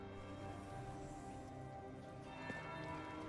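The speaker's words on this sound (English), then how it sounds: "That's the bell." A bell rings in a video game, faint and sustained with ringing tones that hang over a steady ambient background, with no voices.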